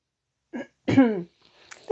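A single short cough bursts out close by, followed by a brief throaty vocal sound, then quiet.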